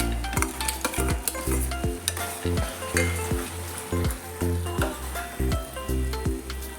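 Carrot halwa with fried dry fruits stirred in a hot pan, rhythmic scraping strokes of a spoon repeating about twice a second over a constant sizzle.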